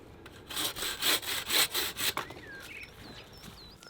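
A bow saw rasps through hedge wood in a run of quick, rhythmic back-and-forth strokes, close and crisp, then stops while birds chirp faintly in the background.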